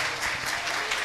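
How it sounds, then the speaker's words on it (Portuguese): A church congregation applauds during a Portuguese-language service; a brief, dense burst of crowd clapping. "Vamos aplaudir Jesus forte,"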